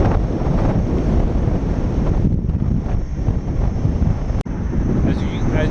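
Steady, loud wind roar buffets the microphone while riding a motorcycle, a broad constant rush with no speech and one brief dropout near the end.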